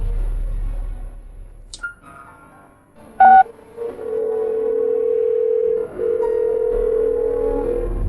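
Telephone sounds on a phone call: short dialing beeps, then a sustained steady dial tone that breaks off briefly and returns, loud and close with no talk.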